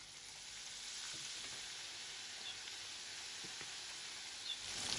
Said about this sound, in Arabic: بس يحمى الزيت منبلش بالقلي